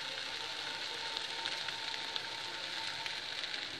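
Hot water poured over rice frying with peas and sausage for risotto brings on a quiet, even hiss and crackle that sounds almost like rain, with faint pops scattered through it.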